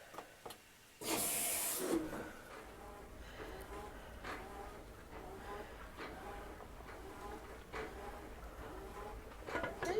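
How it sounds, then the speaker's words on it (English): Cube steak frying in oil in an electric skillet, a sharp loud sizzle bursting in at the start, then settling into a steady crackling hiss with faint pops throughout. "I'm going to put a little oil in it, and I'm going to fix my cube steak inside of this electric skillet"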